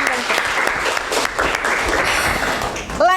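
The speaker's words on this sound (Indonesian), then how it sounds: "tepuk tangan lagi untuk mereka" Classroom applause from a group of teachers and students, a steady wash of many hands clapping close by, ending with a brief voice at the very end.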